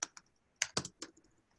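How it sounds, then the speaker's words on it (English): Keys clatter on a computer keyboard during an online scientific meeting's breakout session: a few close, crisp clusters of keystrokes with short pauses between, and no talking. "my typing here is terrible"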